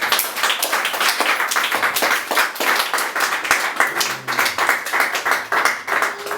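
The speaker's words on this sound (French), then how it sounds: "Acclame pour la parole du Seigneur." A church congregation at a Sunday service claps together in steady, rapid rhythmic applause, loud and close, sustained throughout with no talking over it.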